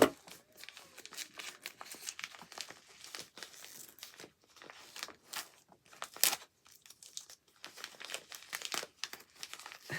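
A well-taped yarn parcel being cut and opened, with continuous close crinkling and crumpling of packaging and tape, plus brief tearing and rustling bursts throughout and no talking.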